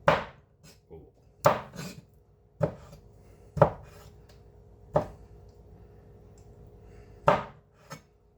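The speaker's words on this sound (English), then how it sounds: "let's try another chop" Chopping thick pork with a Hoshanho knife on a cutting board: sharp, separate knife strikes fall at an uneven pace, about six loud chops with a few softer knocks between them, close and clear with no talking.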